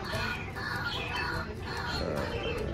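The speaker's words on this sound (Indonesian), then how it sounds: "Ini ada burung roa-roa." Roa-roa birds call raucously in overlapping, repeated harsh notes, a busy chattering chorus against steady background noise.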